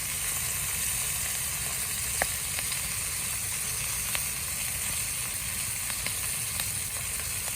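Wagyu ribeye steak searing in a hot pan, a steady close sizzle and hiss of fat with occasional sharp pops and crackles, continuous throughout with no talking.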